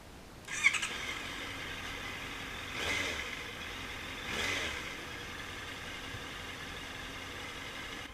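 A Honda CBR650F motorcycle engine idles steadily during throttle cable adjustment, starting with a sharp squeal, then a constant hum with two brief swells as the revs rise and fall, close by and without talk.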